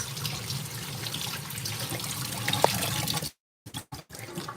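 Vegetables rinsed under a running kitchen tap, a steady close wash of water for about three seconds before it cuts off, followed by a few brief splashes and drips.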